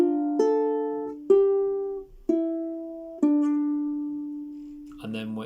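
Plucked ukulele notes ring out one at a time, four separate plucks each decaying before the next, ending with a brief strummed chord.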